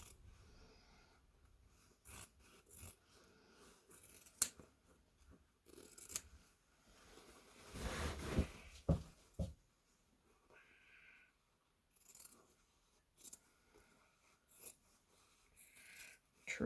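Scissors snip close up through excess wool coating fabric on an 18th-century frock coat, quiet irregular cuts and rustling with pauses between, faint overall.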